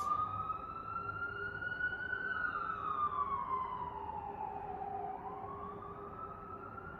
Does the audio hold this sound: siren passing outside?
yes